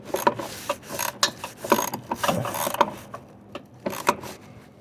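A hand ratchet snugging a bolt on the windshield washer fluid pump of a 2021 Toyota Highlander Platinum Hybrid, giving short uneven bursts of quick clicking with brief pauses between strokes, close and fairly quiet, with no talk.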